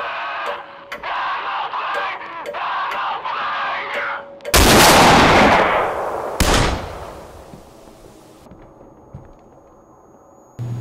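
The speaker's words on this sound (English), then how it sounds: "Will anything happen if I shoot myself?" Gunfire in the Z.FG demo video game: two loud, sharp shots with lingering decay about two seconds apart, after a stretch of voice-like sound and followed by quieter game noise.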